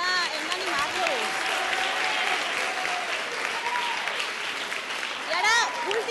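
Applause from a studio audience on a Catalan word-spelling game show after a contestant and his team are eliminated: sustained crowd clapping under a loudly chattering, cheering room, with voices and shouts running throughout.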